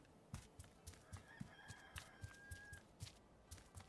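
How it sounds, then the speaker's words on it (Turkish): A faint rooster crow sounds in the distance in the video game Papo & Yo, over a steady rhythm of soft thumping footsteps, with no talking. "Horoz bile ötüyor bak"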